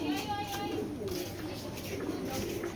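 A male black checker racing pigeon of jackpot bloodline coos softly in a few low, throaty, repeated calls, close by against a faint background hum.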